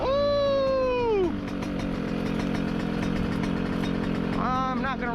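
Yamaha YZ125 two-stroke dirt bike out trail riding, its engine wailing high and close, then dropping to a rough idle before rising again in short revving bursts near the end.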